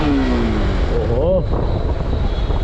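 Bajaj Pulsar RS200 motorcycle engine, BS4 or BS6 version, revving in first gear with a rising, wavering note, loud and close, as a man briefly exclaims over it.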